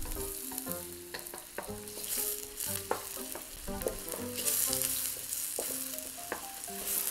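Bacon sizzles and crackles in a hot pan for a farro risotto-style dish, a dense, close frying hiss with intermittent clinks and scrapes of stirring.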